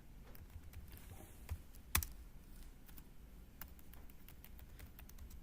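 Keys tapped on a computer keyboard in a quiet room: a loose run of faint, scattered clicks, with one sharper keystroke standing out about two seconds in.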